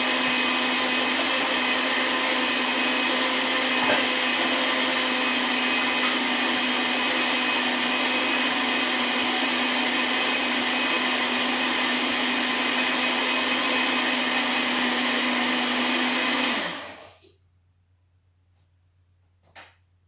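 Electric mixer beating cheesecake batter for a Japanese-New York cottage cheesecake fusion, a loud steady motor whir running continuously for about seventeen seconds and then stopping abruptly, followed by near silence with one faint knock.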